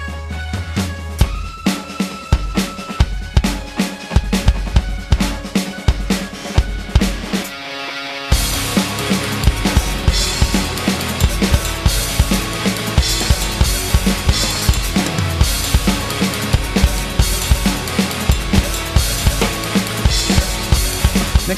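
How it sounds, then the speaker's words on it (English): Roland TD20 V electronic drum kit played along to music, busy steady hits and cymbal-like wash running throughout, with a brief drop near the middle before the full groove returns loud and dense. "It's a set of Roland TD20 V drums, which I freaking love."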